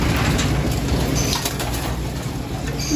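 Pigeons in a loft and aviary, a continuous low cooing from many birds close by with some rustling and flapping mixed in.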